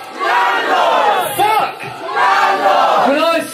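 A large crowd at a live band gig in a bar shouts together in loud unison, two big roaring bursts of a chanted response echoing through a packed room.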